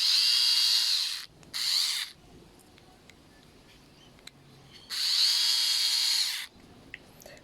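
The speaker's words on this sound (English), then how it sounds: "Then you can use the power screwdriver." Power screwdriver whirring in two bursts, a short one and then a longer one, while driving carburetor screws on a MaxPro ZX 300 backpack blower, loud and close with quiet handling noises between the runs.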